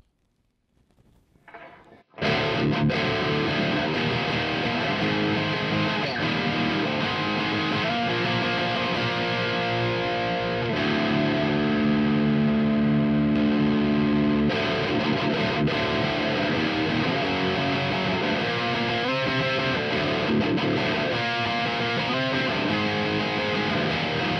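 A heavily distorted electric guitar through a Randall RX120RH 120W tube amplifier plays thick, chunky chords continuously for about twenty seconds, loud and close, with no voices.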